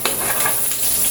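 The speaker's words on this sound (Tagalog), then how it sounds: "So, dito ko siya gigisahin." Garlic and onion sautéing in a pan, a brief, steady close sizzle with light stirring.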